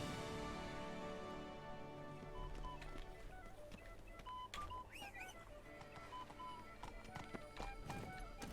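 Roach the horse gallops in The Witcher 3, steady rhythmic hoofbeats running the whole way under a sustained musical score, with a few faint chirps and clicks.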